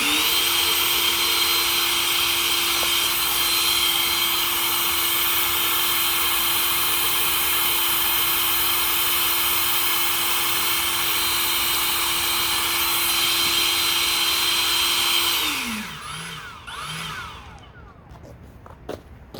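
An Ego 670 CFM leaf blower runs on its highest setting, a loud, steady whooshing roar with a constant whine that holds for about fifteen seconds, then winds down and cuts off, leaving a few faint knocks.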